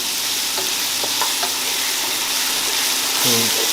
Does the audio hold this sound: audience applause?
no